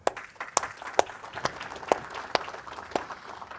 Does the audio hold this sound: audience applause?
yes